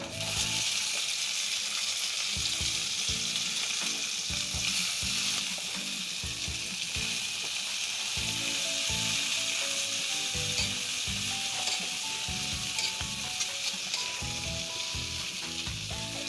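Onions fry in a pan alongside carrot for a mushroom chilli dish, with a constant hissing sizzle broken by rhythmic scraping stir strokes, close and steady and without speech.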